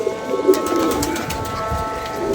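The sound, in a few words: pigeons cooing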